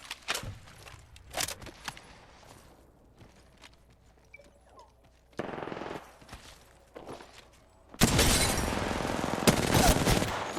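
Apex Legends gunfire: scattered bursts of automatic fire early on, a short gap, then a loud, dense stretch of sustained shooting near the end, all close and prominent.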